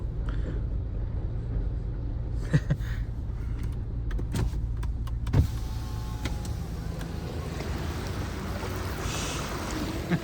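A car drives through Ghaggar River floodwater, its engine droning beneath continuous sloshing and rushing water, with a few sharp knocks and splashes along the way.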